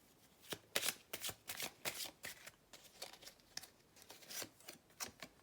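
Tarot cards are shuffled and drawn in quick, rustling bursts of riffling and slapping, close and distinct, repeating irregularly throughout with no voice over them.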